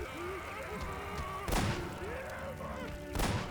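Shotgun blasts in Half-Life 2, two loud, sharp booms about two seconds apart, heard over game music and background sound while people talk.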